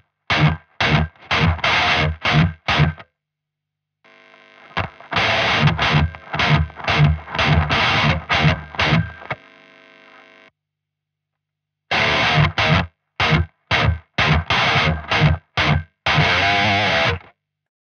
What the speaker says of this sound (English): Today we look at the Lichtlärm Audio Key and the Gate Noise Gate.